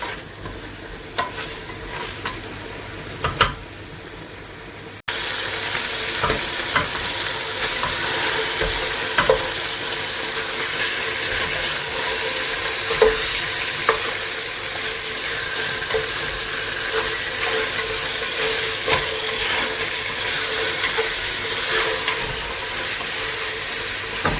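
Chicken pieces and onion fry in oil in a pan, with a quieter sizzle at first and then a louder steady hiss and crackle plus frequent stirring scrapes.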